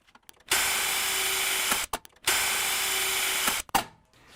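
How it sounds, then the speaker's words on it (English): A power drill bores pilot holes through a steel backbone into a welding cart shelf, two sustained whining bursts of about a second and a half each with a short pause between, loud and close with no talk. "I'll drill pilot holes through the backbone into the shelf"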